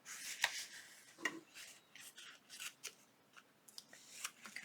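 Scissors snipping through faux glassine paper to cut the sides of a handmade envelope, a close series of crisp irregular cuts and light paper rustles with no talking.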